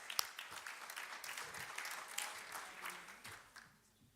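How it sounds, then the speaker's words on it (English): Hands clap steadily as applause at a community engagement conference keynote, a dense patter of many claps at moderate level that thins and fades toward the end. "I'm just going to say thank you and clap my hands."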